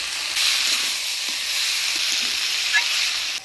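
Fish heads dropped into a pan with fried potatoes, banana flower and green chillies set off a steady close sizzle in a Bengali village kitchen, a continuous hiss with a few small stirring clatters.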